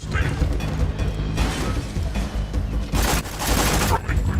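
Gunfire in the video game Borderlands 2, with dense, continuous rapid shots and crashing impacts filling the whole stretch at high volume, with no pauses.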